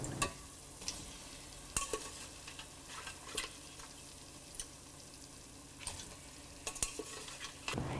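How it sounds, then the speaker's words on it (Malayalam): Cooked mutton stirred into masala in a pan, a soft low sizzle under repeated scraping and clacking spoon strokes at an irregular pace, close and fairly quiet. "ഇതിലോട്ട് കുക്ക് ചെയ്ത് വെച്ചിരിക്കുന്ന മീറ്റ് മാത്രം ഇട്ട് നന്നായി ഇളക്കിയതിന് ശേഷം"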